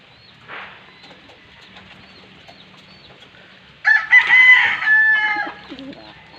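Chicken calling out while searching for its mate, a loud crowing-like burst rising over quiet farmyard background after a few soft earlier sounds.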